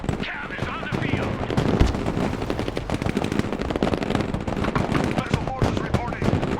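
A military video game battle during an assault on an air base, with heavy machine-gun bursts and scattered explosions rattling continuously, while a voice speaks over the combat.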